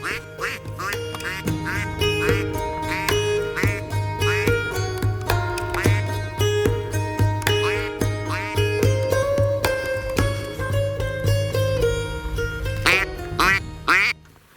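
Many teal ducks quacking continuously nearby, overlapping calls forming a busy chorus that runs throughout before cutting off at the end.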